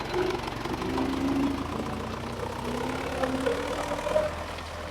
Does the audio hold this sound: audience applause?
no